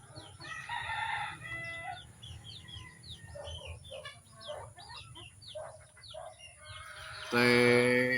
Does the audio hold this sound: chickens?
yes